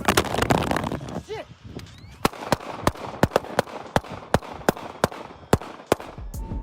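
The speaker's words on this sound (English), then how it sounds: "At one point, shots can be heard going off" Gunshots from an Instagram live stream, a series of about a dozen sharp, loud cracks spaced roughly half a second apart, following a stretch of noisy crowd voices.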